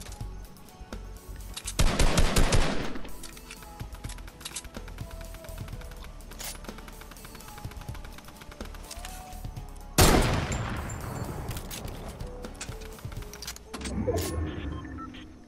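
Bursts of gunfire in the Fortnite battle royale game, with one long, loud volley early on and another at about ten seconds, plus scattered shots in between over game ambience.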